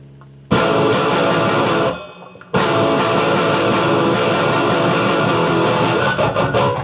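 Distorted electric guitar riffing through the end of the second verse of a song, loud and driving, with a brief drop around two seconds before the chugging resumes.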